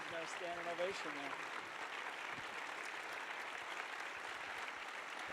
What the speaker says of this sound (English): You guys got a standing ovation there.